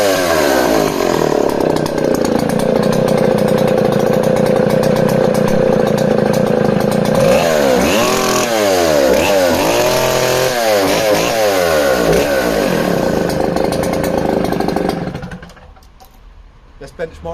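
A vintage 1960s Stihl 07S chainsaw with a 21-inch bar runs close and very loud, holding a steady snarl before revving up and down in repeated bursts, then cutting off abruptly near the end.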